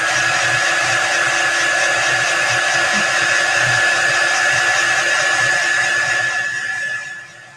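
A hair dryer blows steadily at close range, drying buffalo plaid chalk paste on a craft piece, a constant loud whirring hum that runs for several seconds before cutting off.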